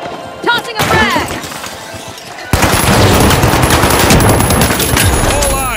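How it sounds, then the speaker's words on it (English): Frag grenade going off amid gunfire in the video game The Finals, a loud blast that swells into a dense, sustained roar of shooting and debris, close and overwhelming, with a voice speaking early on. "Tossing a frag."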